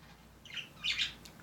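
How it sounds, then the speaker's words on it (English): Pet birds indoors give a couple of short bright chirps and chattering calls, the second louder, over a quiet room background. "I can't talk, but I got birds talking to me."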